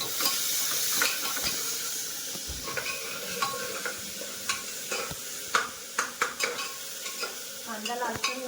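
Chopped onion hits hot oil spiced with cinnamon and sizzles loudly and steadily, with a spoon repeatedly scraping and clinking against the pan toward the end.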